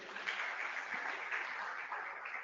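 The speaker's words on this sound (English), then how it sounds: "A round of applause to Dr." A conference audience applauds a speaker at an internet industry summit, steady dense clapping from a crowd that holds at an even level throughout, with no voices over it.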